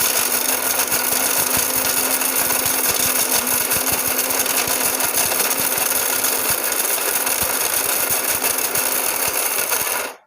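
A Kiam three-jar juicer mixer grinder runs in pulse mode to grind ingredients to powder, giving a loud, continuous high-pitched motor whine with a grinding rattle that stops abruptly at the end.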